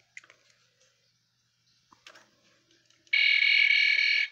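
A few faint clicks and handling noises, then a steady, shrill electronic tone from a toy gadget sounds for about a second.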